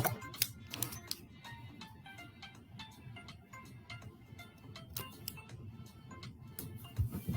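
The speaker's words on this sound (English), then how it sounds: "grab those scissors and cut that piece of tape." Sharp snipping and crinkling clicks of scissors cutting tape scattered over a steady low rumble, close by, with a few louder cuts near the end.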